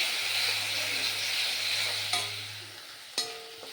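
Tomatoes and bay leaves sizzle in oil in a pan while ghugni is being cooked. A steady, bright frying hiss runs throughout, with a low hum underneath and two sharp clinks of a utensil against the pan near the end.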